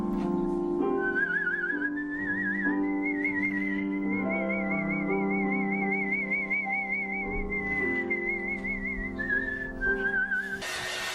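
A person whistles a sustained, wavering melody with steady vibrato, close and clear, over a quiet background of soft tones, with no talking.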